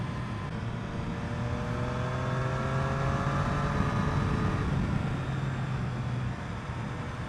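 A 2021 Triumph Street Triple RS motorcycle engine pulling under acceleration, a steady moderately loud drone with rising tones, heard amid constant wind rush.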